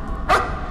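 A puppy in the horror video game Layers of Fear gives a single short bark or yelp, a brief bright burst in the middle of a quiet, hollow-sounding background.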